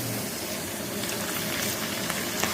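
Kajjikayalu, sweet dumplings stuffed with palakova, deep frying in hot oil: a steady, dense sizzling and bubbling hiss that continues evenly throughout without pauses.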